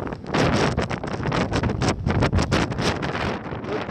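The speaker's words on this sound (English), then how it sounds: "Listen to that wind, my dudes." Strong gusty wind outdoors in Las Vegas pounds the microphone with loud, uneven buffeting and roaring bursts that continue without a break, with no talking.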